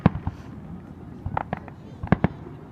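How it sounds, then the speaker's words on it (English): Independence Day fireworks bursting over Stamford, Connecticut in July 2015, with several sharp booms and crackling pops at uneven intervals, some doubled in quick succession, heard from a moderate distance. "July 2nd, 2015, Stamford, Connecticut fireworks."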